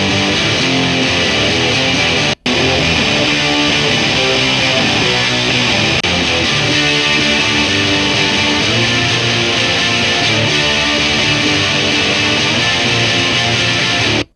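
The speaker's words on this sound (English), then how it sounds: "It's one with the small clone and then one with just only the DS1." Electric guitar layered through a Small Clone chorus and a DS1 distortion pedal, a dense, steady wall of strummed chords with one brief dropout, loud throughout.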